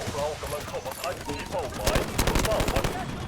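Rapid automatic AK-12 rifle fire in the mobile shooter Delta Force Mobile, with dense bursts of close gunshots building in the second half, under an excited voice talking.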